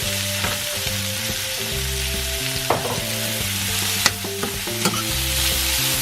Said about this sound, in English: I'm gonna cook this for a few minutes.